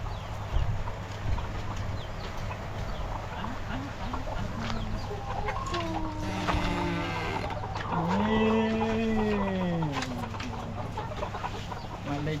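Chickens cluck and croon in a farm coop during egg collection, several drawn-out, wavering calls rising and falling at moderate distance over a steady low background hum.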